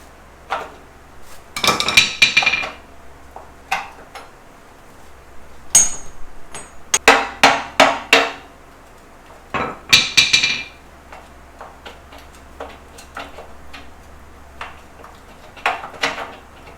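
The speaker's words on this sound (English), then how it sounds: "Let's get a hammer and try to knock those off." Repeated metallic hammer strikes knock studs out of a 1940 car rear end, ringing in irregular bursts, some in quick clusters, with pauses and small clanks between blows.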